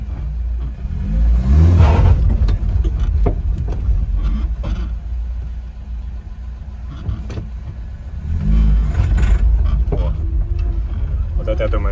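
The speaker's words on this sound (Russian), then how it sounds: "Я думаю, четко было слышно, какой идет детон." A Zhiguli car engine idling fully warmed on A-100 petrol, with detonation knock from the motor, rumbles steadily near the microphone with brief surges; a person talks over it.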